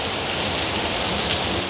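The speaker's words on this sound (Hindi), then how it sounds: "यहाँ पे बारिश इतनी ज़्यादा तेज़ हो रही है, जगह जगह से पानी जैसे गिर रहा है" Heavy rain pours steadily in a dense, unbroken hiss, loud and close, with no voices, during a downpour in Shenzhen, China.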